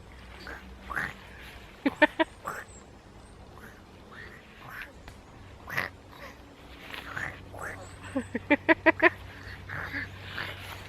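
A person imitates a duck's quacking during a children's storytime, with a short cluster of rapid quacks followed later by a longer run of five or six quick quacks, mixed with a speaking voice.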